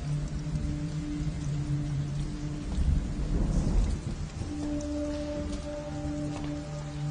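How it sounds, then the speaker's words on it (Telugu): Steady heavy rain pours down while a deep roll of thunder swells in the middle, with a faint tonal hum running through. "వర్షం ఇప్పుడప్పుడే తగ్గేలా లేదు."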